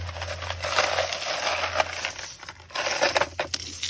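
Self-tightening snow chains for a 2019 Toyota Tundra are lifted out of their packaging and handled. Loose metal links clink and rattle in uneven bursts close by, with no talking.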